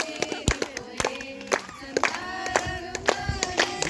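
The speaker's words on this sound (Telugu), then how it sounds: "చప్పట్లు పెట్టాలి అందరూ." A congregation claps in a quick, steady rhythm at a church baptism service, the hand claps ringing out over sustained voices singing or calling together.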